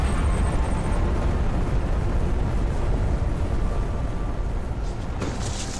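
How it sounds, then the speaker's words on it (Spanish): A nuclear bomb blast in the video game Just Cause 2 gives off a heavy, sustained rumbling roar that stays loud and even before easing slightly near the end. "Pues vaya mierda de bomba nuclear."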